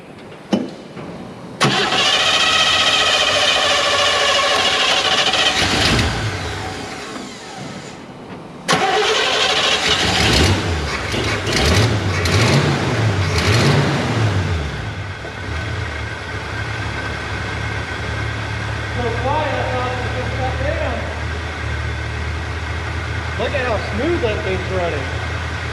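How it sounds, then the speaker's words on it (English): A Chevrolet Nova Super Sport's engine cranks and fires up, then settles into a steady, loud idle with a couple of revs, close by, while a person talks over it for a moment. "Now we'll start her up again and just see how she sounds."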